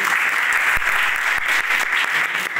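Children clap for a classmate's answer during a school safety program on cold waves, a close, busy burst of applause with a few sharper claps, sustained and fairly loud.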